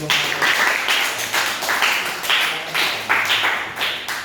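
Students in an Islamic inheritance law class applaud together, a steady rhythmic clapping that continues for several seconds without speech.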